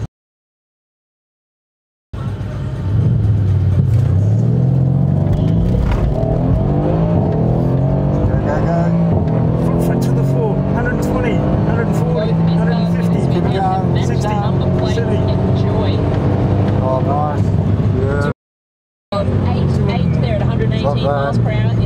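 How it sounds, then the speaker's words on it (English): Mercedes-Benz AMG C63S on a drag run at Springmount Raceway, a loud continuous engine roar with rising revs throughout, interrupted by a brief gap, with a commentator talking over it. "Richard back in his Mercedes AMG"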